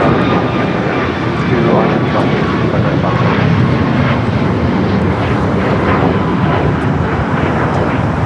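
A jet airliner roars down the runway on takeoff at LAX, a loud, continuous, broadband rumble heard throughout, with a person talking over it.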